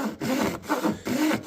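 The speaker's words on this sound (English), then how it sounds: "the Japanese back saw does work really good. It's quite accurate. It's really easy to cut a straight line" A Japanese back saw cuts East Indian rosewood for a 12-string guitar bridge, producing about four rhythmic rasping strokes close up, each separated by a brief pause.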